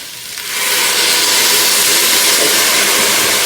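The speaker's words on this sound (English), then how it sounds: "I'm going to use chicken stock to deglaze my pan" Chicken stock hits a hot pan to deglaze it, erupting into a loud, steady steam hiss and sizzle that swells within half a second and holds strong and close throughout.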